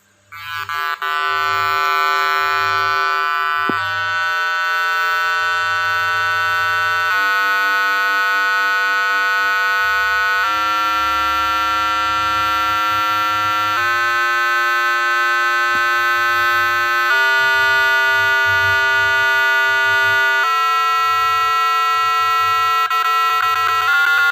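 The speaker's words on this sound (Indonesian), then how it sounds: "do, re, mi, fa, sol, la, si, do ini akan berbunyi selaras bergiliran sesuai dengan masing-masing angka pada NIM saya" An electronic buzzer wired to input buttons beeps out do-re-mi scale notes one after another, each tone held for several seconds in a steady, loud, stepwise sequence with no talking.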